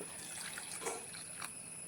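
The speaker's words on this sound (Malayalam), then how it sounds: "വെള്ളം ഒഴിച്ചു." Water trickles softly into a container holding a few pieces of kudampuli (Malabar tamarind) set to soak for a fish curry, a faint, steady pour with no talk.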